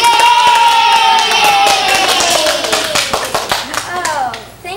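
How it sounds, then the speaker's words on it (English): A round of applause for a girl who wins at a children's show: brisk, fairly loud clapping mixed with a bright sustained tone and some crowd noise, fading out toward the end. "Let's give her a round of applause."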